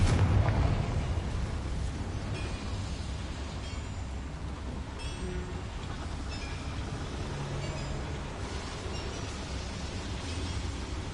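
A Confringo fire spell bursts in a loud blast inside a boiler room in Hogwarts Legacy, then settles into a steady, roaring broadband rumble that holds for several seconds.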